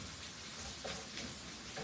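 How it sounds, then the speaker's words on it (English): Minced garlic sautéing in a pan for fried rice, a faint, steady sizzle with soft crackle and a few light scraping stirs. "we're going to continue to saute these minced garlic till it's aromatic"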